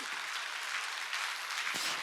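A church congregation claps together during a Sunday sermon, a dense, continuous burst of many hands that stays loud and even throughout.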